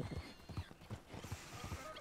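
Donkey hooves clip-clop at a steady walking rhythm in a video game, roughly a dozen close, dull thuds over an ambient background, with no talking.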